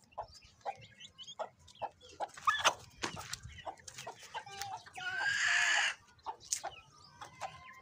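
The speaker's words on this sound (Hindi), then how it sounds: "मैं आपको भी मुर्गी पकड़ के ना दिखाता भी हूँ कितने ज़्यादा है," Chickens clucking and squawking in a flock as one is caught by hand, with repeated short calls, a loud burst of alarmed flapping and screeching partway through, then more scattered clucks close by.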